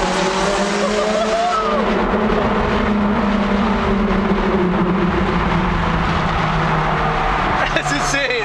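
Ferrari V8 engine roaring steadily inside a tunnel, loud and continuous with a rising pitch near the end, while people talk over it.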